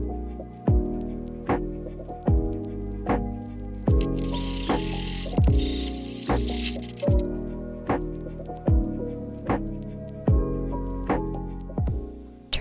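A sewing machine stitches pink gingham fabric folded in half for a doll-dress belt, running in short repeated bursts with a steady mechanical thump and ratchet-like clatter, close and fairly loud, no voices.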